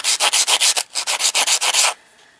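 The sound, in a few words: sanding tile edges with a sanding sponge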